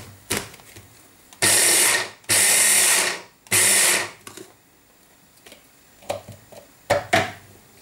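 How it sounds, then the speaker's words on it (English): An electric blender whirs through chicken and spinach curry ingredients in a home kitchen: three loud, steady bursts of about a second each in quick succession, followed by quieter clicks and handling noises. "So I'm just going to blend it."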